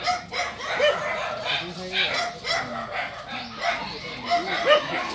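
Several dogs bark and yip repeatedly at visitors arriving at a rural home, the barks coming in uneven bursts close by while people talk over them.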